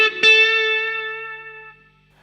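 An electric guitar plays a note from a solo: a single loud picked note with bright overtones that sustains and slowly fades over about two seconds.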